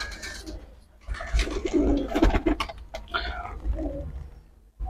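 Flying pigeons kept on eggs coo nearby in soft, throaty, rolling calls, several overlapping phrases with low rustling underneath.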